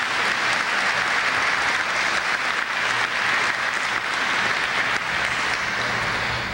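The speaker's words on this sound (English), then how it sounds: "would you give them a nice welcome and round of applause?" Audience at a 1989 church event bursting into sustained, dense applause, a steady wall of clapping from a large crowd that holds evenly for several seconds.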